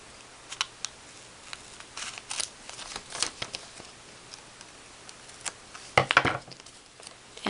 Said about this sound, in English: I'm just going to cut off the excess on the sides here.